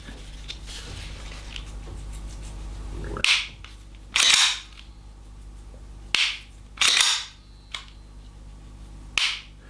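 Sharp, snappy shots from an Umarex/GHK Glock 17 Gen3 gas blowback airsoft pistol, about six, fired one at a time at uneven intervals, close and loud over a quiet background hum.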